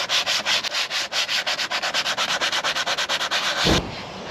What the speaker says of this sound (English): I'll get a bit of sandpaper and just clean over it.